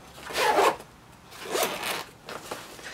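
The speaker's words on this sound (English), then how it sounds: "Now going into the main pouch, you can see yet again it's a double zipper" A double zipper opens the main pouch of a Kryptek Highlander shoulder bag, heard as three close, raspy zip strokes: one long pull, then two shorter ones, with no voices.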